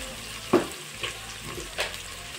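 Food frying in a pan with a light sprinkle of salt while cooking mushroom biryani: a low crackling sizzle with a few sharp stirring scrapes and clatters, close by.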